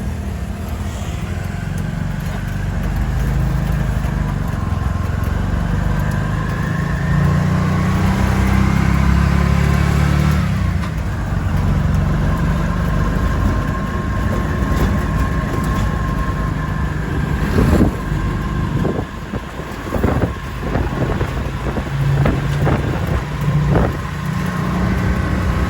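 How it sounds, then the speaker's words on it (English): A motorized tricycle taxi rides through the city streets of Dumaguete, Philippines, its engine droning steadily and fairly loud throughout, with road rumble and a few sharper clatters and knocks toward the end. "Okay, so I got me a trike."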